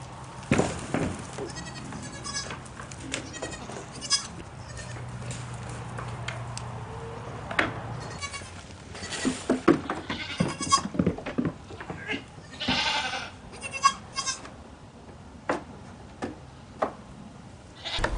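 A nervous goat on a milking stand with a DIY milking machine, scattered clattering hoof knocks and rustling alongside a brief low mechanical hum, with a faint bleat and irregular ticking bumps over about eighteen seconds.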